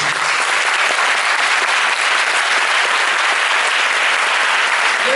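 Sustained audience applause fills a masterclass hall at an animation forum honoring a Japanese film director, steady dense clapping throughout with no letup, loud and close.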